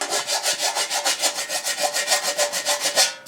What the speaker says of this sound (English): just deburr one of those holes